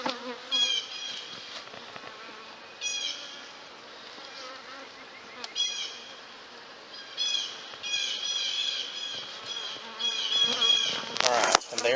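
Honey bees buzz steadily around an opened hive during a colony split with swarm cells, a dense, continuous hum with occasional louder passes close by and no talk.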